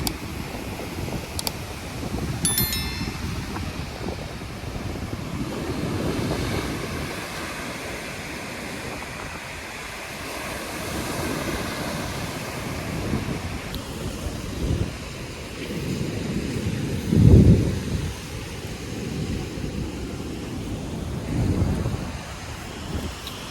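Steady wash of sea waves and gusting wind at Tannirbavi beach in Mangalore, a broad continuous roar with wind buffeting the microphone and a few brief swells, no talk.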